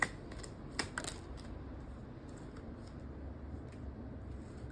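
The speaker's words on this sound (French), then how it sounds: "Alors, je bats les cartes." Oracle cards are shuffled close by, a soft, quiet run of riffling flicks and taps with a few sharper clicks near the start; no voices.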